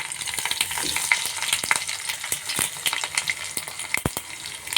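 Mustard seeds and cumin sizzling in hot oil for tempering, a crackling fizz broken by rapid sharp pops and spits, some louder than others.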